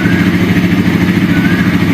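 A Bajaj NS200 BS6 motorcycle, just fitted with a replacement fuel pump assembly, idles close by with a steady, loud, even thrumming from its engine.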